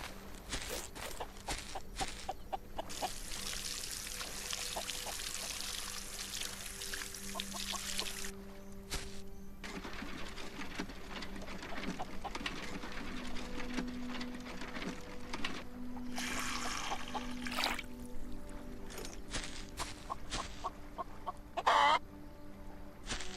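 Chickens cluck repeatedly in the farming video game Solarpunk, mixed with footsteps, mechanical clatter and other game effects over a steady background, with no talking.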